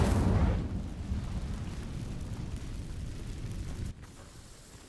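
Incendio fire spell burning dry vines in Hogwarts Legacy: a loud whooshing burst at the start, then a steady low crackling roar of flames that drops off sharply near the end.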